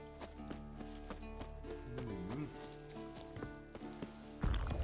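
Hooves clip-clop at a steady walking pace from a horse in The Witcher 3, layered under game music with sustained tones throughout, ending in a brief louder burst.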